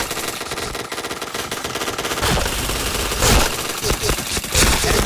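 Rapid automatic gunfire from the PointBlank online shooter game, loud and sustained with dense bursts throughout and a heavier stretch in the second half, while a player's voice talks faintly underneath.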